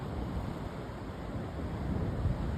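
Waves break against rocks on the shore at Terrigal on the New South Wales Central Coast at sunrise, a steady, full, close rumble of surf with wind noise and no clear separate crashes.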